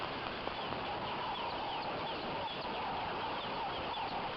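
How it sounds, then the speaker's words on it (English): Green pigeons and rattling cisticolas call in the African bush at sunrise, faint and distant, their repeated notes sitting over a steady background hiss. "all I can hear is green pigeons and rattling cisticulars."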